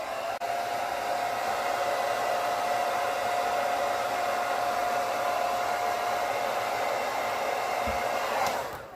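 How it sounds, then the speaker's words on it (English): Hair dryer on low volume and high heat blowing onto a beard, a steady loud whirring hum held for several seconds before cutting off at the end. "I'm going to hit it with the hair dryer just very briefly"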